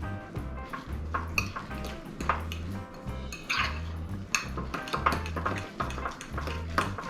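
A spoon scrapes and clanks around a pot of cooking food in a steady stirring rhythm, metallic knocks repeating close by with a low rumble underneath; no talk.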